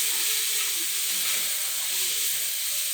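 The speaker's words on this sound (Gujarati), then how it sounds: "ગેસ ધીમો રાખીને હલાવવાનું છે." Food stirred in a pan over a low gas flame while cooking a Maggi-masala dish: a steady close sizzle and hiss with faint scraping from the stirring, continuous throughout with no voices.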